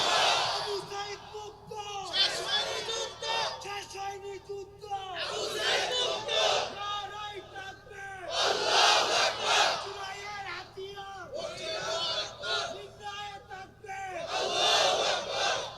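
A large crowd at an Islamic waz gathering roars a slogan in unison, loud and close, with repeated chanted bursts and short breaks between them.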